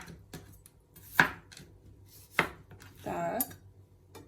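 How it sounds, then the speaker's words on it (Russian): A knife chops through a washed, cored bell pepper into large pieces on a board, with three sharp strikes spaced about a second apart and a scraping, clattering burst near the end, close up with no talking. "Взяли перчик любой, просто помыли, вытащили внутренности и нарезаем."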